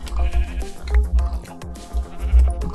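Sheep bleat repeatedly in Minecraft, a cluster of loud, close, blocky game-animal cries over a deep low rumble, with no talk.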